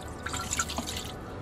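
A cup of water goes into the bottom of a pressure cooker inside an Airstream trailer, giving a brief splashing, dripping pour that is close and clear with no voices.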